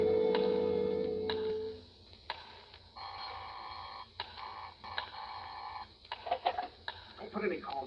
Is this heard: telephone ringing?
yes